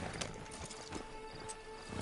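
Horse hooves clip-clop in Red Dead Redemption 2, a few soft, irregular thuds set in a dense wash of ambient background noise.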